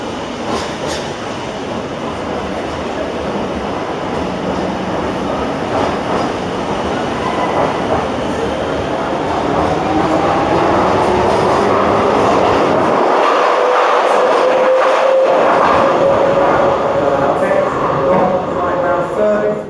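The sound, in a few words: light rail train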